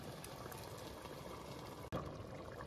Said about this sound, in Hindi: अब इसमें ऐड कर देते हैं जी ये जो चनेओं का पानी निकाला था